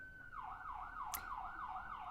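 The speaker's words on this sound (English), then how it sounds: "There's a siren." An emergency vehicle siren near a fire station wails outside in a steady up-and-down rising and falling cycle, moderately loud and continuous, with no talk over it.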